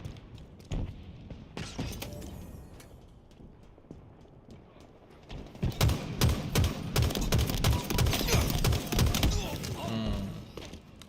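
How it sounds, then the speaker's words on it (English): Rapid video-game gunfire during a capture-the-flag match, a dense run of sharp clattering shots building loud in the second half over engine and movement noise. "So many shots."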